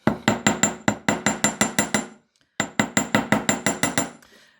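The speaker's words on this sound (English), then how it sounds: "I'm going to bring the smaller ones in and hammer them for you so you can see." Metal hammer striking wire jewellery components on a hard block, working the top curls of Celtic wirework pieces: two bursts of rapid, evenly spaced sharp taps, about ten blows each, close and loud with a short pause between.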